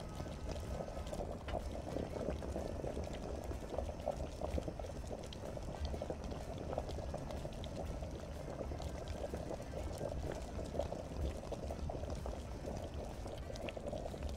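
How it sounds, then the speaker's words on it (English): Beer wort bubbling in a pan while brewing in Brewpub Simulator, a steady, continuous boiling hiss and gurgle that stays at an even level throughout, with no talk over it. "We're gonna go pick up the other pan, we'll get it boiling."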